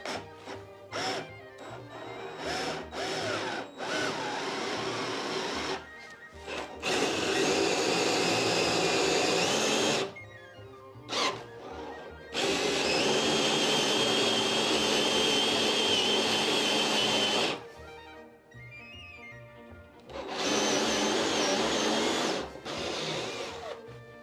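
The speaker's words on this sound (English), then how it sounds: "Use the hole saw to make the holes." A hole saw drills through blocks in a Minecraft modpack game, making loud, steady mechanical whirring in long stretches broken by brief pauses of near silence.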